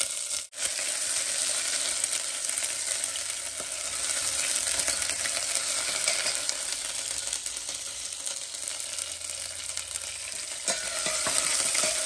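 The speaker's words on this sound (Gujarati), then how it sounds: "રાઈ થી ને જીરા થી વઘાર કરવાનો છે" Mustard seeds and cumin temper in hot oil for a Gujarati dish, a continuous bright sizzle with scattered crackles and pops, fairly close and steady throughout, with one sharp knock near the start and no talking.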